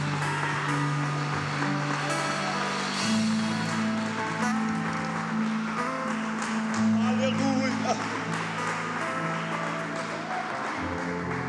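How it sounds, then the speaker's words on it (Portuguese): A church congregation claps together, a continuous wash of many hands under soft sustained music, with voices faintly present throughout. "Uma salva de palmas ao nosso Deus."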